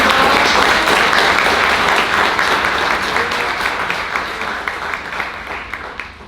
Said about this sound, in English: Can we give a round of applause to our student speaker?